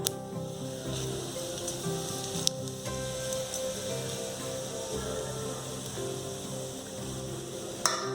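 Cumin seeds sizzle steadily in hot oil after asafoetida, a dense continuous crackle and hiss for several seconds, with a few sharper clicks and a low background hum.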